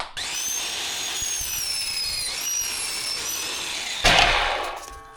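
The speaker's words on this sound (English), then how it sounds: "I am, however, gonna use the miter saw on the ground" A miter saw set on the ground whines at high pitch as it spins up, then bites loudly into a van floor strip with a harsh burst near the end, close and without talk.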